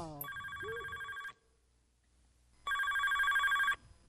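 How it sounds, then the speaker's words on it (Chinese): A household telephone rings loudly and close by in two separate bursts, each about a second long, with a short silent gap between them and no talking. "电话你离较近，你接吧"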